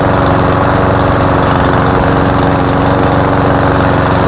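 A Cub Cadet self-propelled lawn mower engine runs loud and steady at close range, a continuous throbbing drone with no breaks and no voices over it.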